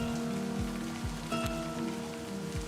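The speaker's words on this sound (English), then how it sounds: "Raindrops fall on the paper" Steady rain patters onto paper, a dense wash of soft drops with a few sharper taps standing out, close and continuous over a low background hum.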